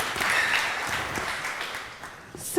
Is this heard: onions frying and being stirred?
no